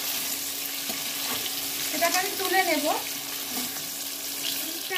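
Paneer cubes fry in hot oil in a pan with a steady close sizzle and crackle, a utensil stirring briefly as someone speaks.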